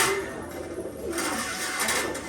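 Rajshahi light biscuit pigeons coo softly in a loft, low throaty murmurs continuing steadily against faint background noise with no voices.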